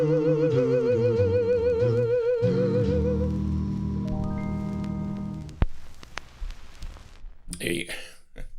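A 1952 doo-wop vocal record on the Decca label: a smooth, sustained crooning voice over soft backing that ends partway through, followed by someone talking over faint noise.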